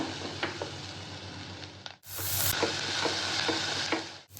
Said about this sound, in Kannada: Next onion. ಸ್ವಲ್ಪ ಇದನ್ನು ಫ್ರೈ ಮಾಡಿ.